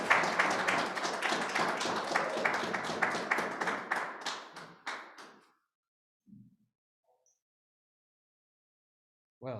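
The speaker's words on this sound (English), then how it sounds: "please give him a round of applause as he joins us" An audience at a poetry reading applauds a newcomer, a modest round of many claps that builds briefly then tapers into a few scattered claps and silence, with a faint voice near the end.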